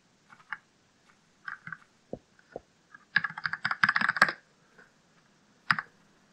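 Computer keyboard typing during a Minetest game: scattered single key taps, then a quick flurry of rapid keystrokes lasting about a second, a few isolated clicks after, close and fairly quiet.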